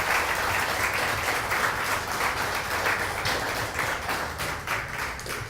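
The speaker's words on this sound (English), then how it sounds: "put their hands together and to thank our panelists" Sustained audience applause at a literary festival panel session, a dense wash of many hands clapping steadily throughout, fairly loud and close, with no voices over it.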